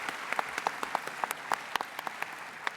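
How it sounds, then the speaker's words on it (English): Audience applause for the organizing team at a conference opening ceremony, a crisp stream of individual claps from a modest crowd, moderately near and steady, with no voices over it. "Please, a huge round of applause."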